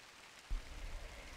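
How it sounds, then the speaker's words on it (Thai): Rain begins falling outdoors, with a soft broadband patter that starts abruptly partway through and continues steadily, fairly faint and with no voices. "ตอนนี้เกิดเหตุที่คาดฝันไว้แล้วขึ้นแล้วนะคะก็คือฝนมันตกนั่นเอง"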